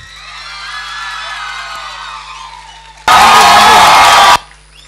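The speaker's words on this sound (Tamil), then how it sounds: "பெரிய கரகோஷம்." A crowd at a Pothys Pondicherry 7th-anniversary stage celebration cheers and whoops for about three seconds, then erupts in a loud, dense burst of applause and cheering that cuts off sharply.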